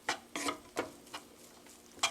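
Kimchi fried rice sizzling and being stirred in a pan, with soft scraping bursts of spatula strokes at an uneven rhythm over a faint sizzle, close and quiet, no talking.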